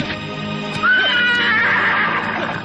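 A horse gives a loud, clear whinny with a rising then falling cry that lasts nearly two seconds. It happens as a rider mounts and leaves after overpowering guards, and no one speaks.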